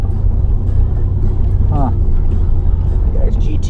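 A Pontiac GTO idles and drives off nearby at a cabin with a loud, steady low engine rumble throughout, while a person talks over it.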